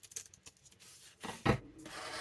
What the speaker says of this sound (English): And then just cut that little section